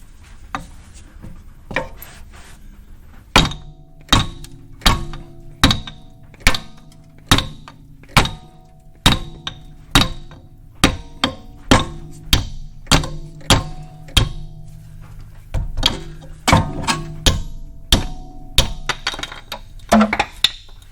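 Hammer striking a control arm bushing on a BMW E46 330ci, roughly two dozen sharp metallic whacks close by at a steady rhythm, with a few lighter taps at the start.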